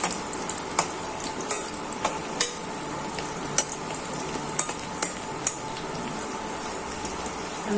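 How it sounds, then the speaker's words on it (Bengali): Onions fry in a pan for a drumstick and lentil dal, with a constant close sizzle broken by occasional sharp clinks and scrapes of a utensil stirring against the pan. "ভালো করে পেঁয়াজটা ভাজা হয়ে যাক।"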